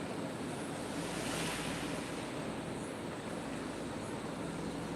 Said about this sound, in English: I'm sure you can still hear the ocean.